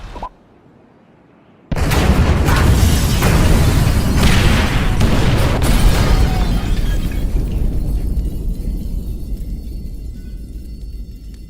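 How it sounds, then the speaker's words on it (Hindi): After a brief quiet moment, the FIB building explodes in the video game GTA V, a massive, loud roaring boom with crackling debris that slowly rumbles and fades away. "अभी वो धमाका फाइनली हो चुका है"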